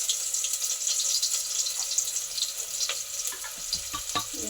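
Lengthwise-sliced onions frying in a pan make a steady, close hiss and sizzle, with a few soft clinks and stirring knocks near the end and no talking.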